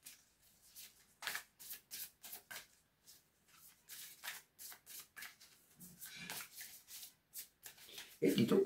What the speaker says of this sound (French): elles se mélangent pas très bien ce soir, les cartes